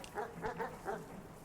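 A dog in the video game Animal Well gives a quick series of about four soft, muffled barks in rapid succession, faint and close, with nothing else sounding.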